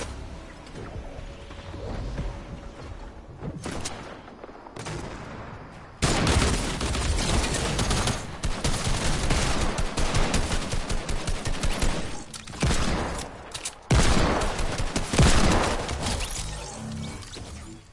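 Gunfire from the Fortnite video game, with dense rapid bursts of shots that start faint, then loud sustained volleys crackle almost continuously with brief pauses between barrages.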